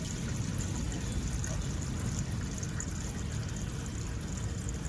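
Steady rushing of water poured down a household wastewater drain to test a cleared blockage, a continuous broadband wash with no breaks, fairly close.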